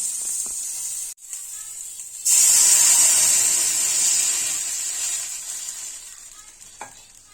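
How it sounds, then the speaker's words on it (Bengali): Sweet potato and pumpkin pieces frying briefly in a pan, a loud, close, steady sizzle that surges after a short pause and then slowly fades, with a few faint utensil clicks. "এটা বেশি ভাজবো না একটুখানি ভেজে আমি এটার মধ্যে জল দিয়ে দেবো"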